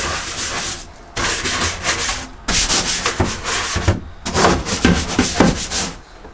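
A portable toilet's urinal is scrubbed inside and around with a brush: close, rough rubbing strokes come in three long bursts separated by short pauses, with no talking.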